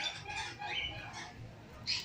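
A hen that has just laid an egg clucks in short, repeated bursts at close range, with faint chatter in the background.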